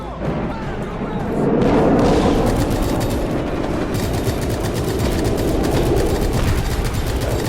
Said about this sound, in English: Anti-aircraft fire. AA fire.